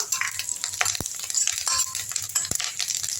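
Dried red chillies and curry leaves roasting in a pan crackle and sizzle steadily, with a few sharp ticks of a spoon scraping the metal as they are stirred.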